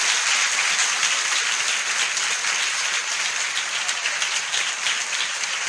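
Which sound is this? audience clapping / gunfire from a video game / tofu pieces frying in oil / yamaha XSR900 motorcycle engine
audience clapping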